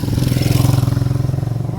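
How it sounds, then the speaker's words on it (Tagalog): A motorcycle rumbles past on a village road, its engine a loud, pulsing drone close by for a brief moment. "Yan, may motor, may motor."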